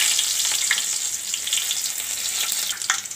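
Chopped garlic frying in about two tablespoons of hot soybean oil, a bright, steady sizzle with occasional stirring scrapes, close and continuous.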